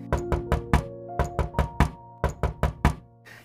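Knuckles rap on the door of a rented boarding-house room in quick bursts of three or four knocks, repeated several times, close and sharp with short pauses between.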